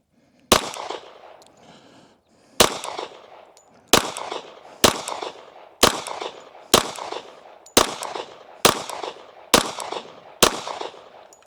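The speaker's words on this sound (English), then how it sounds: "We're going to shoot a few 10-shot groups at 10 yards" Ten single Glock pistol shots at an outdoor range, fired with a Gideon Optics Granite red dot and Cellar and Bellow ammo at a 10-yard target, each sharp crack spaced about a second apart after a longer opening pause.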